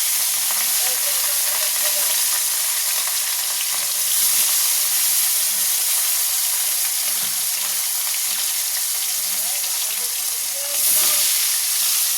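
Loud, steady sizzling of garlic, five-spice seeds, dried chili and onion frying in hot oil, a continuous hiss that swells briefly a couple of times.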